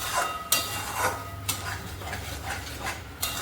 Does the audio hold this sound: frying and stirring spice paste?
yes